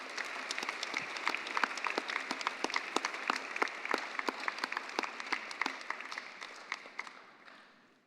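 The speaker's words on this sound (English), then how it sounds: "Let us give her a big round of applause." Gala audience gives a round of applause, steady dense clapping from many hands that fades out toward the end, with no talk over it.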